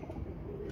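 Pigeons coo in a brief, faint, low murmur, heard alone against a soft background.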